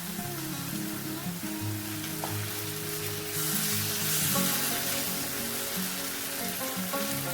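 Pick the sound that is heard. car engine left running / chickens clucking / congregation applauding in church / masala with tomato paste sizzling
masala with tomato paste sizzling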